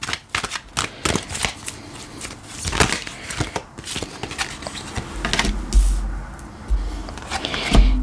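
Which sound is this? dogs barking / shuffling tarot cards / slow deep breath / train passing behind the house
shuffling tarot cards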